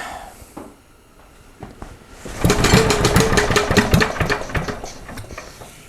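A 74-year-old Briggs and Stratton small engine with a worn-out carburetor sputters and then catches, settling into a loud, close, rapid chugging run with uneven pulses. No one speaks.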